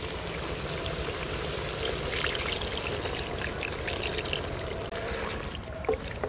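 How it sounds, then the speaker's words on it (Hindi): Water trickling and pouring into a pan of fried ginger-garlic paste and salt for Arabian-style chicken karahi, a steady close splashing stream with faint sizzle underneath, running throughout with no voices. "नमक डालने के बाद थोड़ा सा पानी शामिल कर लेंगे।"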